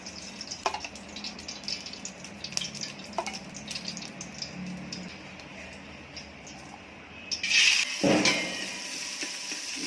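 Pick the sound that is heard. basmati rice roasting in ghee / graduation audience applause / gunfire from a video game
basmati rice roasting in ghee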